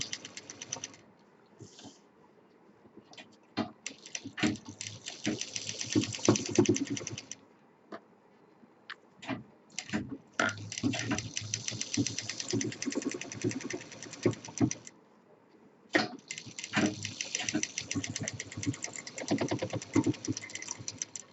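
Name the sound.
sewing machine stitching the other side of a bag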